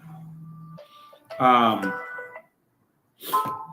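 A telephone rings with a tonal electronic warble among other tones and beeps, mixed with speech in the room, stopping briefly before sounding again.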